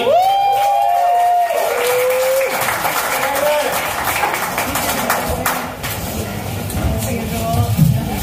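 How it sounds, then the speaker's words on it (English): Comedy club crowd at a tavern applauding and cheering for an introduced comedian, steady dense clapping filling the room with a voice talking over it, fading into shuffling and murmur. "I want you to give a big round of applause for another friend of mine."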